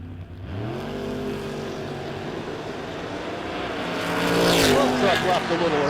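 Drag race trucks at the No Box 660 Shootout launch from the line, a rising roar of engines building toward a loud peak, with a track announcer talking over the noise.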